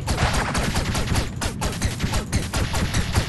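A captain boss fires in a steady hail during an Owlboy battle, rapid loud shots stacked tightly one after another across the whole stretch.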